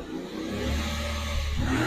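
Renault Clio TCe petrol engine revving as the accelerator is pressed, the engine note rising and swelling in loudness over a couple of seconds, close by and alone.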